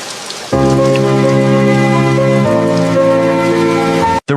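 Heavy rain pours onto pavement in an empty town street, a dense and loud steady hiss that starts suddenly, with a sustained tonal drone over it, then cuts off briefly near the end.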